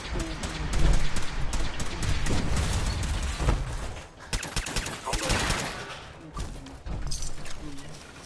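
Rapid gunfire from a Fallout 4 firefight crackles through much of the stretch, dense bursts layered under game sounds and occasional voices, easing off toward the end.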